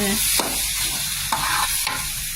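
Ingredients for a Thai jackfruit salad being stir-fried in a pan, with a steady sizzle broken by three or four scraping strokes of a spatula, close up and with no speech.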